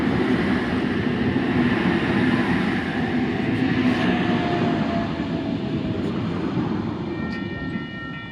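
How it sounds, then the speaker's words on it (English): A steam train approaches a single-platform station at Kembla Grange Racecourse, a broad continuous rumble of rolling wheels and rail noise holding steady and loud, with faint horn-like tones near the end. "we have a steam train coming."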